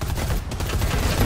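Gunfire in a shooter video game, a dense continuous rattle of rapid shots, loud and close throughout the short burst with no voices over it.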